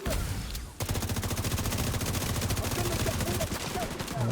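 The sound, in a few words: sniper turret firing in a video game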